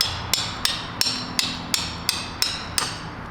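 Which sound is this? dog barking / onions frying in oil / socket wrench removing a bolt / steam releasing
socket wrench removing a bolt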